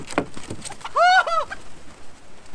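Chickens outdoors in snow giving a few short, close clucks, with one brief pair of louder calls in the middle.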